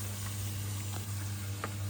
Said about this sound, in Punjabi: ਤੜਕਾ ਲੱਗ ਰਿਹਾ ਉਧਰ